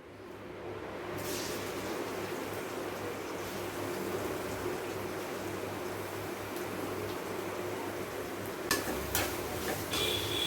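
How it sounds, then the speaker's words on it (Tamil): Half a kilo of finely chopped onions frying in hot oil in a kadai, a steady dense sizzle held at an even level throughout, with a few light utensil clicks near the end. "இப்போ ஒரு கடாய் வச்சுருக்கோம் அதில் எண்ணெய் போட்டிருக்கோம் அதில் வந்து நம்ம நைஸாக வெட்டி வச்சுருக்கிற இந்த அரை கிலோ வெங்காயத்தை நம்ம வந்து சேர்த்துடலாம்"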